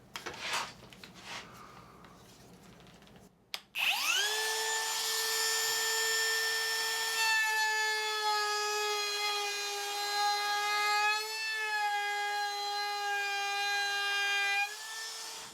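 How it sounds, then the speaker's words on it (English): A Ridgid cordless brushless Octane router fitted with a CMT round-over bit cuts cherry wood. It spins up to a steady, loud, high whine that holds for about eleven seconds, with a slight dip midway, after a few faint handling noises. "Okay, take 2 on the router test. Here's my Ridgid, and I've put in the CMT round over bit"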